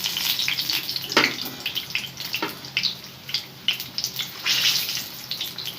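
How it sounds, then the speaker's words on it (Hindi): Rajasthani mirchi vada deep-frying in hot oil: a steady, bubbling sizzle with scattered sharp pops and crackles, close and moderately loud, with no one speaking. "ये वाला तो हमारा लगता है अच्छी तरीके से फ्राई हो ही गया है"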